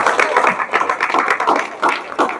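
Audience at a coaching and computer centre annual celebration giving hearty applause, a steady burst of close clapping with uneven swells that carries on without pause.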